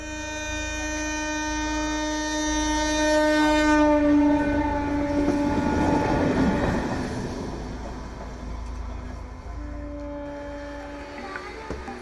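A train passes close by along a line running through a Kolkata slum. Its horn blares in long, loud tones over the rumble of the rail cars, which swells and then fades.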